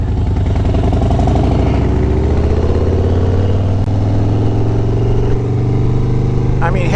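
An air-cooled Harley motorcycle engine drones loud and steady while riding on the road, with a deep pulsing rumble and heavy wind noise, close up.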